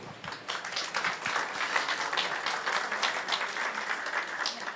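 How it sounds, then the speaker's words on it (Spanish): At a Spanish-language church service the congregation claps for the Lord, a lively spread of many hands building quickly after a short gap and holding steady, moderately loud, with faint voices mixed in. "Démosle un aplauso al Señor."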